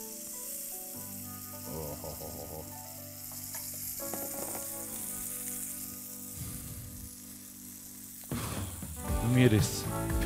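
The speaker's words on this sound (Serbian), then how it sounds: "Beli luk, malo samo da pusti svoje arome na ovoj masnoći." Garlic fries in rendered bacon fat in a pan, a continuous soft sizzle with bursts of stirring and scraping, growing louder and busier toward the end.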